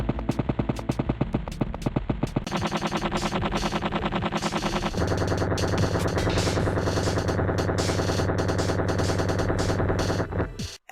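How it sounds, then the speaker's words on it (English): Sped-up running footsteps from the PS1 game LSD: Dream Emulator rattle in fast, sharp bursts like rapid gunfire, changing tempo and texture twice before cutting off abruptly, with no talking. "by speeding up the game, I've made the running sound effects sound like assault rifle fire"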